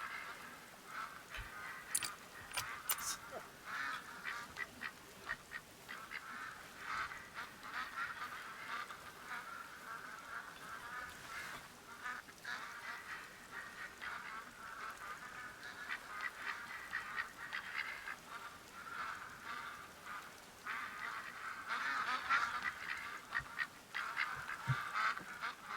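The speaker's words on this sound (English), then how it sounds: "In the meantime, we'll just watch the ducks." Ducks quacking and geese honking in the hunting video game The Hunter: Call of the Wild, a dense continuous chorus of calls at moderate distance, with no talking.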